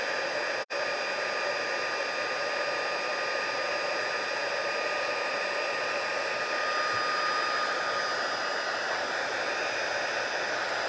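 An embossing heat tool blows hot air in a loud, continuous, even whoosh with a steady whine, close by and running without a break except for a brief dropout near the start.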